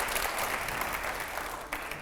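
Studio audience applause at a televised Hindi political Q&A panel with a Meerut MP, a steady, dense wash of clapping that fills the whole stretch and eases slightly toward the end, with no talk over it.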